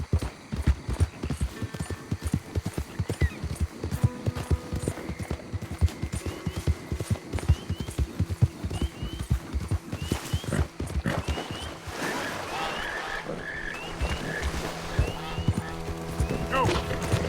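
A horse gallops in Red Dead Redemption 2, fast, close hoofbeats pounding in a dense rhythm that thins toward the end, with a whinny and brief voices.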